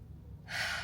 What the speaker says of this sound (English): I just take a breath, do it with me